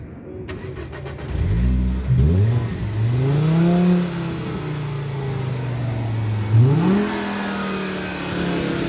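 A Volvo V50 engine starts with a quick crank and catches, then revs up several times with rising and falling pitch before settling into a steady idle, close and loud with no talk over it.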